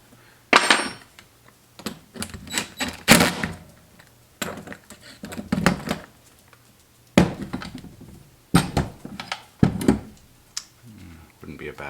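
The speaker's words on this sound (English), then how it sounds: "Pop our Allen keys in, and you can tighten up with your gun or your Allen keys." Screws on a Hitachi/Metabo air nailer tightened with Allen keys during a misfire repair: sharp metallic clicks and small tool taps in irregular bursts close up, with someone talking in between.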